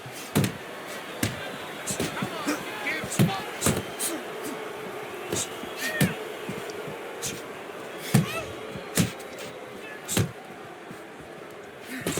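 Boxing punches land in the Fight Night Forever video game as a steady run of sharp, irregular thuds and smacks over crowd ambience and commentary.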